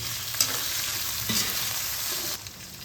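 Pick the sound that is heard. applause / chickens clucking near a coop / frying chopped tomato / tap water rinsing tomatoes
frying chopped tomato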